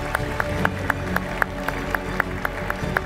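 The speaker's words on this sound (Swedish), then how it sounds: "Håll i applåden" An audience at an award ceremony for a national vocational skills championship claps in a steady, even rhythm, sharp regular beats over a low hum of the hall, with no voices.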